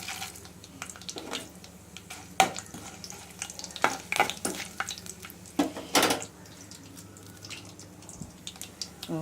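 Onions sautéing in a pan for a mushroom curry, a low sizzle broken by repeated scraping and stirring knocks of a spoon against the pan.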